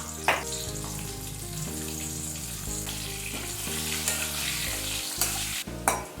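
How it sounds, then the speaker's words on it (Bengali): Potatoes with salt and a pinch of turmeric fry in hot oil, a steady close sizzle with repeated stirring clatters and a few sharp utensil knocks against the pan. "তেলের মধ্যে আমি আলুগুলো একটু ভালো করে ভেজে নিচ্ছি"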